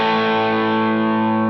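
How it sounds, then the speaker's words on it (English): Electric guitar played through an Enchanter overdrive preset on a Fender Tone Master Pro, a single thick, sustained distorted chord ringing steadily and loud with no talking. "And then you can do the same thing with the Enchanter. Here it is by itself."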